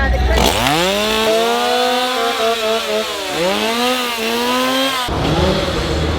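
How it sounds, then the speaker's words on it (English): A loud chainsaw engine revs up, drops, and surges again at the Halloween Horror Nights 2025 theme park event, its pitch sweeping upward with each throttle burst before cutting out near the end. "Chainsaws disappeared from Springfield. They're back, finally."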